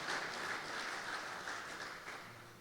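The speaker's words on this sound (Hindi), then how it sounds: "जोरदार तालियां दोनों भाइयों के लिए" Sustained applause from a church congregation for two brothers, a dense, steady wash of clapping that holds level and thins slightly toward the end, with no voices.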